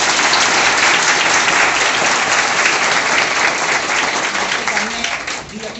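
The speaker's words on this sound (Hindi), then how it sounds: "आदरणीय दी के लिए एक बार जोरदार ताली।" A room of coaching-class students applauds loudly for a teacher's birthday, dense sustained clapping that fades out near the end, with some talking.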